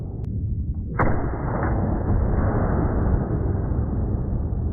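A single sharp, loud gunshot from a black powder round goes off, followed by a long, dense roaring rumble that lasts several seconds without fading.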